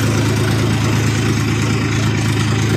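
Loaded tractor engine running hard under strain while the vehicle struggles to climb, a loud, steady low rumble with constant vibration throughout and no voices.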